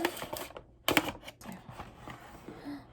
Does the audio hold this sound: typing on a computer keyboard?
yes